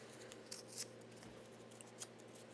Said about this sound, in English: I'm just going to tear my paper into small bits to look like leaves